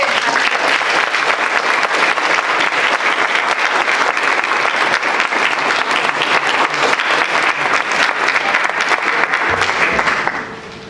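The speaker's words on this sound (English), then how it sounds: "would you mind giving him another round of applause?" Sustained applause from a large lecture audience for a speaker, dense and even for about ten seconds before tapering off at the end.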